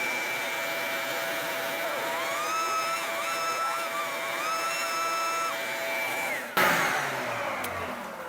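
A dust collection unit with its hose connected runs with a steady, loud whooshing roar and a thin mechanical whine. Near the end a sudden thump and rush break the drone before the roar settles again.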